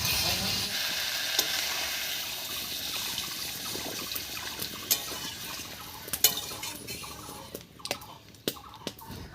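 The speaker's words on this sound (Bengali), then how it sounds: "এবারে ঝোলের জন্য জল দেবো" Water goes into a hot pan of vegetarian jackfruit and potato curry, setting off a loud hiss and sizzle that slowly settles, broken by sharp clinks and scrapes of a spoon stirring against the pan.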